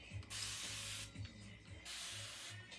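A handheld spray bottle mists hair in two long, close hissing bursts, with soft clicks of the trigger mechanism between sprays.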